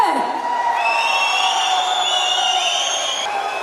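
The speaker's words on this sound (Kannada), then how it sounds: "ಬನ್ನಿ ಜೋರಾದ ಚಪ್ಪಾಳೆ" A crowd cheers, whoops and shouts loudly and continuously at a Kichcha Sudeep fan event, a dense wall of voices with high excited yells layered on top, close and sustained throughout.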